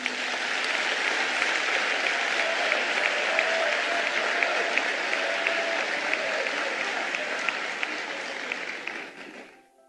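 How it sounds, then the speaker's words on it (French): Party congress delegates of the PDCI-RDA in Côte d'Ivoire give a long, dense, warm round of applause that stays steady and loud throughout before tapering off at the very end. "Je vous demande de les applaudir chaudement."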